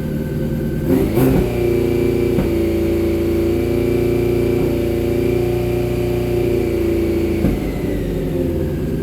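A cold barn-find Honda CBR600 motorcycle idles high without choke, its loud, close engine holding a steady elevated drone with a few brief blips.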